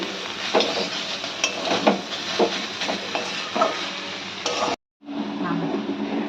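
Banana blossom and Gobindobhog rice being stirred in a pan, with steady scraping and clinking of a utensil against the metal over a low sizzle, broken by a brief silent gap before the frying continues.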